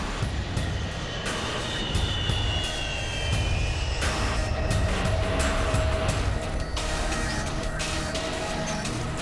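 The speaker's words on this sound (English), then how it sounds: "And much of it arrives in Bagram on the mighty C-5s." A C-5M Super Galaxy military transport aircraft landing at Bagram, heard as a steady, moderately loud roar of jet engines with a whining tone that rises and shifts throughout, over continuous broadband noise.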